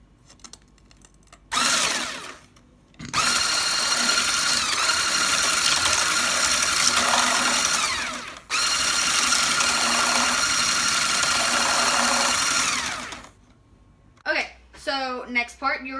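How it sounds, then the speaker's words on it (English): An electric beater whips cream to stiff peaks in a bowl with a loud steady whir in two long bursts, then a short pause and a second stretch, and a voice talks briefly afterward. "Now we are going to beat it until hard, stiff peaks. Now this you actually have to use the beater for."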